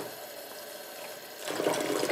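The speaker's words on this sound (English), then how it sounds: "you're going to continue to rinse and squish" Cold water runs and splashes while wool dryer balls in nylon mesh are rinsed and squished, a quiet trickle swelling into louder gushing near the end.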